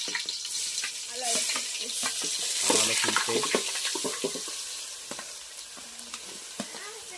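Curry leaves and onion sizzle and crackle in hot oil, a steady frying hiss with scattered pops and spoon scrapes throughout, close and fairly loud, gradually settling toward the end.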